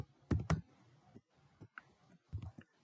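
Irregular keystrokes on a computer keyboard, a few close, crisp clicks in small clusters with short pauses between them.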